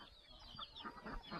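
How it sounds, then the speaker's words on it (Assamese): Chickens cluck outside a house, a few soft, scattered calls rising over faint background noise. "ইয়াত কুকুৰা আছে এইখিনি বাহিৰত কুকুৰা আছে"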